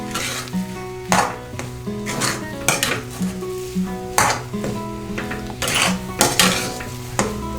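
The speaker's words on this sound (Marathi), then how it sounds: "तर आपण मिक्स करून घेऊया आणि आपला रवा शिजलेला पण आहे" Semolina sheera (suji halwa) being stirred in a pan, with repeated metallic scrapes and clinks of a spoon against the pan in an uneven rhythm, close and fairly loud, with no talk over it.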